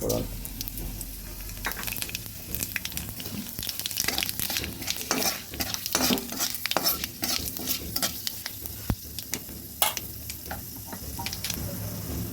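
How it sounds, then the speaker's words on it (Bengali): Bay leaf and dried red chilli fry in oil with a constant crackling sizzle, punctuated by frequent scraping and stirring clatter from a spoon in the pan, close and moderately loud. "তেজপাতা শুকনো লঙ্কাটা কিছু ভাজা হয়ে আসলে"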